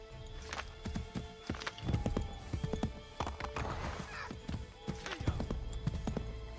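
Horse hooves clop in a quick galloping rhythm in Assassin's Creed 3, with a brief whinny and shouted voices, fairly close and moderately loud.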